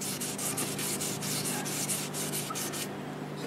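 Finish being rubbed by hand onto a mimosa wood vase turned on a lathe, heard as steady close-up rubbing strokes with a soft repeated rhythm, the motor off.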